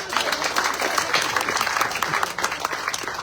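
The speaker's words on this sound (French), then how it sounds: "Mimi, je vous demande d'applaudir." A crowd at a political meeting presenting Gérard Monstin's running mates breaks into loud, close applause, many hands clapping in a thick continuous patter throughout, with faint voices mixed in.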